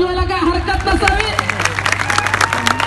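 A crowd claps and cheers for a kusti wrestling bout, scattered sharp hand-claps rising into steady applause over a dense background of crowd babble and voices.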